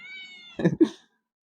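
A kitten gives a short, clear two-part meow up close, after a faint tonal background sound, then silence.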